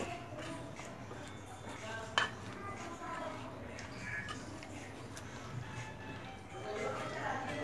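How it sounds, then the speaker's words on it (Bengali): Green bananas and shrimp being stir-fried with spices in a pan, faint scraping and clinking of a utensil against the pan with a soft sizzle, a sharper clink partway through, low and continuous. "এখন কাঁচা কলাগুলো আমি এর মধ্যে দিয়ে দিব এবং সাথে দিয়ে দিব চিংড়ি মাছগুলো। এখন এগুলো আমি ভালো করে একটু কষিয়ে নিব।"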